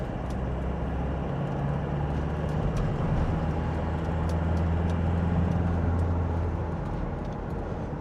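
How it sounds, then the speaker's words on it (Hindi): Scorpio N or Innova Crysta engine revved hard, heard from inside the cabin as a steady, loud low rumble with a droning hum that swells slightly midway through, no talking. "तो मैं आपको अभी इस गाड़ी को एक बार रेव करके इसकी साउंड चेक करवाता हूँ।"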